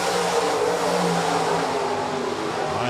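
USRA B-modified race cars run a heat race on the Rapid Speedway track, a steady, continuous engine roar with sustained revving that holds loud and unbroken throughout, with no voices over it.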